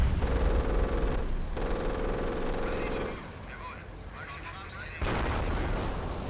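Marder tank destroyers in a Company of Heroes battle fire in rapid succession, dense overlapping booms and gunfire that drop back briefly before another loud burst, under someone talking.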